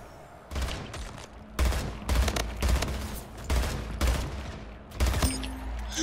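Rapid bursts of gunfire ring out in the video game Splitgate, with repeated sharp volleys coming in clusters across several seconds, loud and close over steady game background noise.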